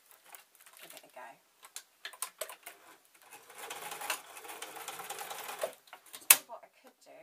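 A sewing machine stitches a rice-filled scrap-cloth juggling bean bag, with a short burst of close, rapid stitching between softer handling clicks and taps in a quiet room.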